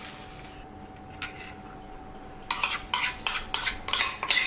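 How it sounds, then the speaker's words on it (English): A spoon stirs coleslaw dressing into shredded cabbage, onion and carrot in a bowl. After a quiet start, a run of quick, close clinking and scraping strokes follows, alone with no talk. "all we're going to do is chuck it in our cabbage, onion, carrot mixture, stir it all in"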